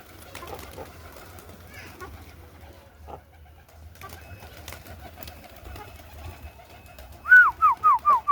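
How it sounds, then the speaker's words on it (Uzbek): Pigeons in a loft cooing: a quiet stretch of faint bird sounds and low background noise, then at the end a close, loud run of four or five rolling coos in quick succession. "Don begani emas, och qushlar."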